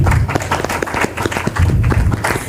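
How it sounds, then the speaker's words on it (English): Panelists at a productivity awareness week discussion get a round of applause from the audience, loose, fairly close hand claps in an uneven rhythm that continue throughout at moderate loudness. "Can we get a round of applause for them?"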